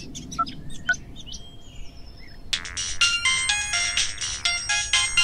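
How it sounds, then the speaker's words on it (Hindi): A mobile phone ringtone for an incoming call plays loudly and steadily, a bright repeating electronic melody that starts abruptly about halfway through after faint bird-like chirps. "अरे यार, इसका कहां से फोन आ गया?"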